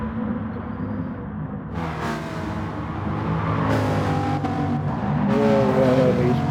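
Bugatti Veyron race car in a racing video game blasting past on a Tokyo expressway loop, its engine note climbing in pitch over a few seconds as it nears, with faint talk beneath.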